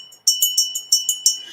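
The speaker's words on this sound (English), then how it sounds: "So this is a Fenton bell." A Fenton glass bell rung in quick succession, about seven bright, clear chimes in an even rhythm, close and fairly loud with no voices over it.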